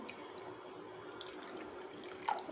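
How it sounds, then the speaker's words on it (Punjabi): Water pours steadily into a bowl of paste for lemonade, a soft continuous trickle with a slight splash near the end. "ਪਾਣੀ ਪਾ ਕੇ ਛੱਡ ਦਾਂਗੇ"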